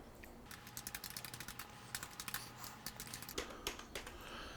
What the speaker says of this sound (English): I'm going to click in there and type